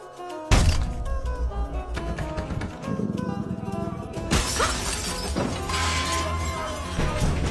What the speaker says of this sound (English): the sound of shattering glass suddenly came from behind her